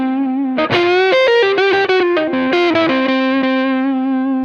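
Electric guitar lick with a bend on the flat five, played through distortion and effects; a short run of picked notes with a bent pitch, then a sustained held note ringing out, close and loud, no voices.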